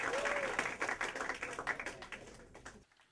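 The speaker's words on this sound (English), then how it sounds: "Can we get him on stage with a huge round of applause?" A crowd at a stand-up comedy show applauds, a dense, sustained wash of clapping that fades out near the end.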